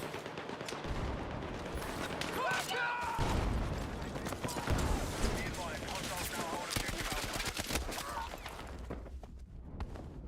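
Battlefield 6 video game combat with dense, continuous gunfire and automatic bursts, loud and close, mixed with footsteps and game effects while a voice talks intermittently underneath.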